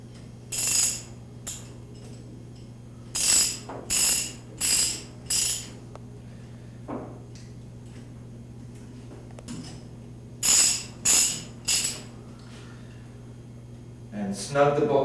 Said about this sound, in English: Now it remains to bolt down the lid using the two bolts, again 9/16 head socket, wrench